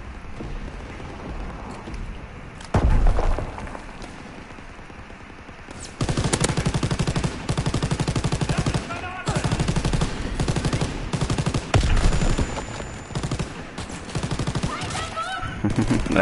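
Gunfire in the Call of Duty war game, with rapid bursts of shots and heavy automatic fire in clustered, loud volleys, broken by brief quieter gaps and some layered battle noise.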